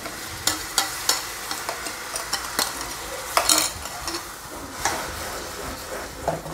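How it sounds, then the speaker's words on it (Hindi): Onions and tomatoes cook in a pan over a high flame, giving a steady sizzle with repeated scraping stirs of a spoon against the pan, close and continuous with no talking. "अब इसमें प्याज और ये जो टमाटर है वो इसमें डाल देंगे।"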